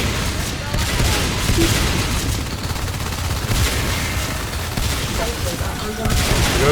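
Shotgun fire in a video game, heavy blasts and booming shots piling on each other in a dense, loud, continuous barrage with little pause.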